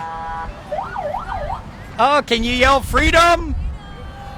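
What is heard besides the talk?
police car sirens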